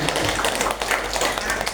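A classroom of students claps for a classmate named Risma, a dense, steady burst of many hands that fills the short moment at close range.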